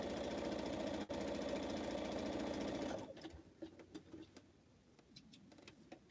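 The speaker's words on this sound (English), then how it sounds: "One more to sew, and then I need to press." A sewing machine stitches quilt pineapple blocks with a steady, close, continuous whir for about three seconds, then stops, leaving faint scattered clicks and handling noises.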